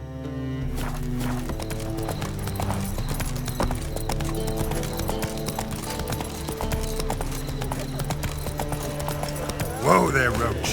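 Roach the horse gallops in The Witcher 3, rhythmic hoofbeats under a steady musical score, with a short neigh-like burst near the end.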